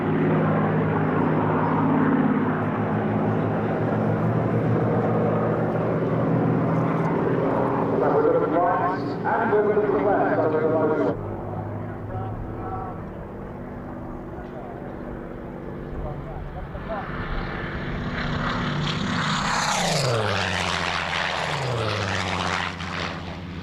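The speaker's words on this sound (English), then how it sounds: "So let's just enjoy the full music of the Merlin and the Griffon engines." Vintage piston-engined warbirds with Merlin and Griffon engines flying at the 1998 Duxford Flying Legends air show; a loud, sustained engine drone rises and swells with a clear Doppler sweep as the aircraft pass close by.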